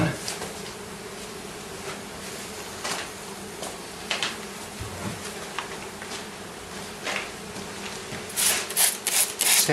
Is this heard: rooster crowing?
no